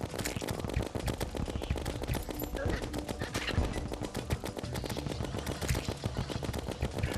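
Rapid automatic gunfire from an Uzi or Megashark in a video game, a dense continuous rattle of shots lasting several seconds over busy game noise.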